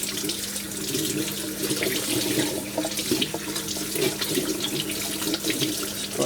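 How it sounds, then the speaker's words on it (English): Water runs steadily and strongly as a Bissell Crosswave floor cleaner rinses its roller. The splashing rush carries a constant machine hum underneath and continues without a break, with no voices. "we're just going to need to rinse the roller through"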